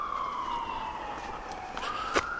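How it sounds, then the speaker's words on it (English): A siren wails outdoors near an allotment greenhouse as one long descending tone that steadily falls in pitch. Near the end it jumps up again, and a sharp click cuts across it. "Cue the sirens."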